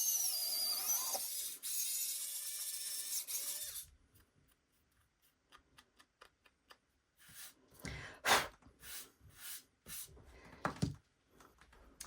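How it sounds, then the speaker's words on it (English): A handheld drill with a larger bit bores into a clay pendant, a bright high whine running steadily at first, then faint stuttering bursts and short scraping buzzes after a quiet pause. "For my pendant, I'm going to use a larger drill bit."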